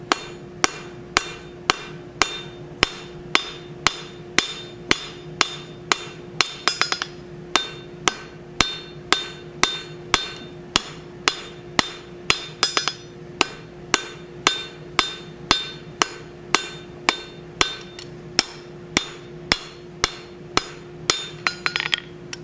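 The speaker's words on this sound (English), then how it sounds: "we're going to hammer that part that we separated at the 3/4 inch mark down into what is going to look like a tenon" Steady, rhythmic hammer blows ring out on steel at an anvil as a blacksmith draws down a section of a plant hanger into a tenon, dozens of evenly spaced strikes with a sustained metallic ring between them.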